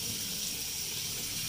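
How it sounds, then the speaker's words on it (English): Cold tap water runs steadily over cooked food in a kitchen sink to rinse off starch, a continuous faint hiss of flowing water with no pauses and no voices. "you rinse it with cold water to stop the cooking"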